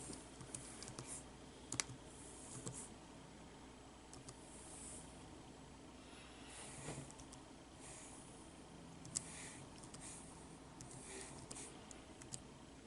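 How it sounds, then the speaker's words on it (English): Keys on a computer keyboard are typed to enter a password during a Mac OS X 10.11 installation, giving faint, irregular clicks over a low steady room hiss. "you press enter, type in your password."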